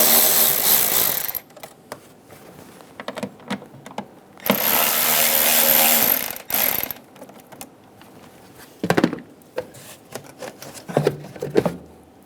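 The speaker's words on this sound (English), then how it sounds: "Using an 8mm socket, we're going to loosen the two clamps on the intake." Socket wrench work loosening the two intake clamps on a 2007-2017 Ford Expedition, with bursts of ratcheting and metallic clicks, a long loud stretch in the middle, then scattered short clanks close by, no talking.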